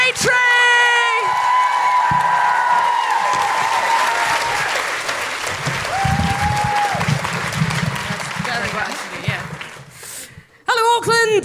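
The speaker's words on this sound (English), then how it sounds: "Keep that applause going for the one, the only, the legendary Grace Petrie!" A live comedy audience in Auckland claps and cheers loudly for Grace Petrie. Whoops and shouts rise over the applause, and a host's voice carries through it before the noise breaks off near the end.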